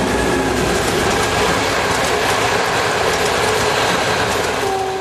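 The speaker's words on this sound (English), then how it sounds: "we begin with M62-145 on the outskirts of Asofo with the train for Balaton-Fured" An M62 diesel locomotive hauls a passenger train on the outskirts of a town near Lake Balaton, with a steady, loud rumble of engine and wheels and rhythmic clickety-clack of the coaches rolling by.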